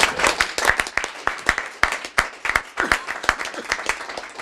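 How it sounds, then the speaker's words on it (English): A school board meeting audience claps in a lively round of applause, many hands beating quickly and continuously at a moderate distance, with no speaking. "That's a round of applause."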